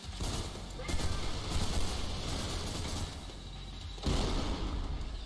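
Heavy machine gun fire in the shooter Trepang2: a continuous, fairly quiet roar of rapid shots with a few louder surges, sounding somewhat distant and blended with battle noise.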